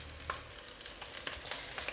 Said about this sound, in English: it is now time to fry the goat meat